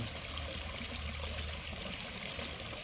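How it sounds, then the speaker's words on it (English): Pond water drains out through a backflush valve on a DIY pond filter, a steady broad rushing and trickling that holds close and even throughout with no voices. "You turn that on, turn the pump off, and that drains all the sludge out and all that stuff."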